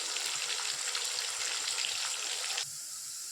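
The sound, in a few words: bitter gourd slices frying in hot oil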